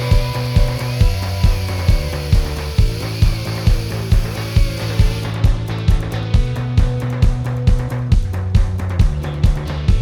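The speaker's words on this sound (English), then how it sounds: "So now I'm gonna have to use a sander, like a little Scotch-Brite pad on a die grinder, just to kind of polish them" A die grinder fitted with a Scotch-Brite pad polishing aluminum BMX hubs, a loud steady motor whine broken by a regular pulsing rhythm as the pad bears on the metal, no speech.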